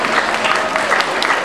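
An audience at a children's festival stage event applauds the jury being invited onto the stage, a dense, loud, steady wash of many hands clapping together.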